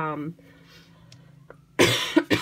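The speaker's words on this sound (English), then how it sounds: "I have a terrible cough" A short burst of speech, then a quiet pause, followed by two loud, harsh coughs close to the microphone.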